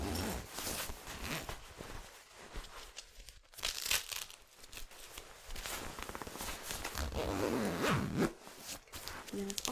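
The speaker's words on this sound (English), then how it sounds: "it's got the two zippers here that go all the way so that it's very adjustable" Zipper on a down sleeping bag from Mountain Equipment Co-op being pulled in quick repeated strokes, close and crisp, mixed with rustling fabric and soft handling noises.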